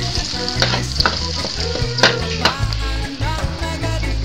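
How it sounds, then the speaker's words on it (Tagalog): Garlic and onion sautéing in a pan, with a steady close sizzle and repeated utensil stirs and scrapes throughout. "saka natin ilagay yung bawang then saka natin ilagay yung sibuyas"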